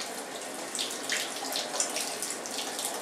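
Tap water gushes steadily from a bathtub spigot into a container, a close, continuous splashing rush with small sputters and no voices.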